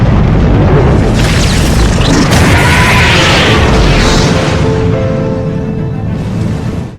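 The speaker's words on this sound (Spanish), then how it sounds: "Finalmente el acelerador de partículas explota" A particle accelerator explodes in The Flash TV series, a loud sustained boom and roar that fills the whole stretch and cuts off abruptly at the end.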